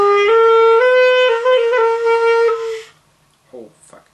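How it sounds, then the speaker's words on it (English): A pocket sax bought from AliExpress plays a few sustained reedy notes stepping upward, bright and buzzy up close, followed by a short pause and a brief voice. "I'll talk about pocket sax."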